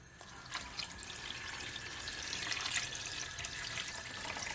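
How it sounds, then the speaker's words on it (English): Water from a tap runs and splashes into a cooking pot holding salted pigtail being readied for boiling, a steady close stream that grows slightly fuller as it fills, with no voices. "So now I'm gonna add some water to it."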